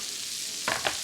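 Beef short ribs brown in a pan with a soft, steady sizzle, broken by two quick clattering stirs near the end.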